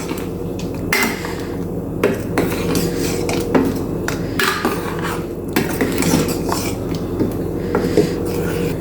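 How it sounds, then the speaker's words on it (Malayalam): A spoon scraping and clanking against a pot while ground garlic paste is mixed into a pumpkin, raw banana and yam erissery curry, steady loud metallic knocks and scrapes in an irregular rhythm over a constant background hum. "നമുക്ക് ഇതിലേക്ക് ഒഴിച്ചു കൊടുക്കാം. നന്നായി മിക്സ് ചെയ്തെടുക്കാം."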